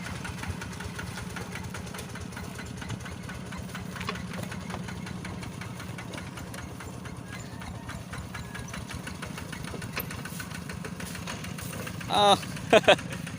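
Truck engine labors steadily while hauling a load of wood uphill, a continuous low rumbling drone through gear changes, with short louder bursts near the end and voices speaking over it.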